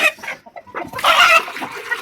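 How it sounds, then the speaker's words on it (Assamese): Local chickens cluck close by while eating grain, with short overlapping clucks and calls rising into a louder cluster. "অলৰেডি মুৰ্গীবিলাক এতিয়া দানা খালে, অলৰেডি দানাবিলাক খাই আছে"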